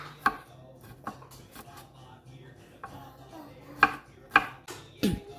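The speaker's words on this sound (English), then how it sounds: "And there you have your garlic and your onion finely chopped." A knife chops garlic finely on a board in a handful of separate, sharp thuds spread unevenly over a few seconds, close and clear, with no talking.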